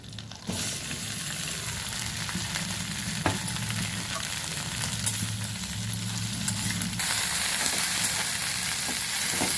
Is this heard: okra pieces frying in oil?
yes